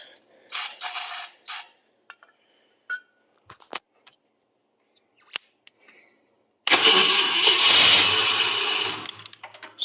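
A few scattered clicks and knocks, then the V8 engine of a 1968 Ford F250 truck roars to life and keeps running loud and steady close by.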